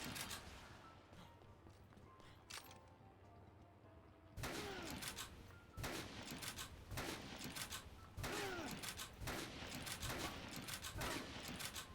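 Gunfire from firearms in the video game Dead Rising: loud, sharp bursts of rapid shots in repeated clusters, with brief pauses between volleys over a steady background.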